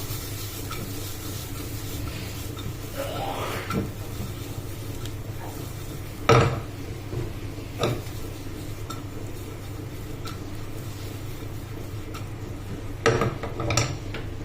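Broccoli with shrimp is stirred in a pan over a steady low sizzle, with a few sharp clinks of the utensil against the pan at irregular moments.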